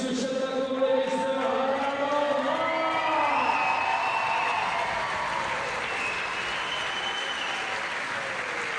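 Crowd applauding and cheering for the podium at a climbing World Cup lead final in Valence, a sustained loud roar of clapping with whoops, while an announcer speaks through it early on.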